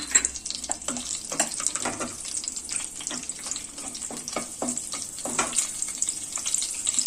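Garlic cloves and green chilies fry in hot oil in a pan, a close, steady crackling sizzle with repeated sharp pops and spatters throughout, no voices heard.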